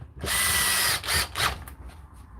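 A power drill drives screws during a repair, a loud close whirring burst followed by two shorter revving pulses as the screw seats, with no talking.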